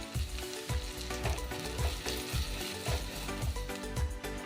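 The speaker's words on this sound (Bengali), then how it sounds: "এবার তেলে দিয়ে দেব কিছু নারকেল" Grated coconut fries in hot oil with a steady, close crackling sizzle, underlaid by a regular low thumping pulse recurring about twice a second throughout.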